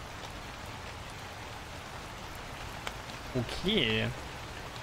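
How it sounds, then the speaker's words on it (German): Steady rain ambience from the video game Night Security, a constant hiss of falling rain under a short spoken word. "Regengeräusche sind wirklich laut, ne?"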